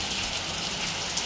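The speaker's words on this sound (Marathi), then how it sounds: "बाहेर कसल्या जोराचा पाऊस चालू आहे" Heavy rain pouring outside a house, a dense, steady hiss of downpour on surfaces, loud and continuous with no voices.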